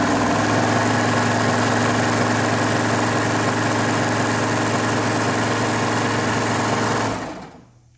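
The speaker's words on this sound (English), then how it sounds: "when you're sewing, you want to stretch your fabric behind the needle so it stretches out the ribs" Sewing machine stitching a stretched rolled hem on a tiered skirt, a steady loud mechanical whir running continuously for several seconds before winding down and stopping.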